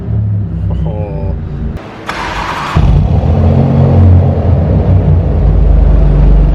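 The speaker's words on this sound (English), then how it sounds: "So this is what a titanium Aquapovic exhaust system sounds like." Alfa Romeo Giulia Quadrifoglio GTA M with a titanium Akrapovic exhaust starting up: a short electric whir and a sharp bark as the engine fires, then a loud, deep, steady idle rumble close by.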